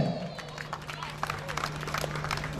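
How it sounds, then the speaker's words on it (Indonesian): Scattered, fairly light hand clapping from an audience at a grand final pageant night in Padang Pariaman, with a low electrical hum and some background voices mixed in. "Kita berikan tepuk tangan yang meriah untuk Ibu Emiarti SSN."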